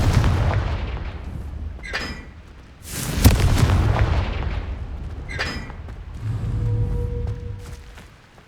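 Several booming blasts from the Confringo spell in Hogwarts Legacy, each a sharp explosive crack with a rumbling tail, spaced a couple of seconds apart amid ambient game sound.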